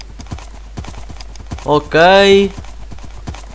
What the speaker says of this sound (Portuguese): Olha o burro. Olha o monte de burros.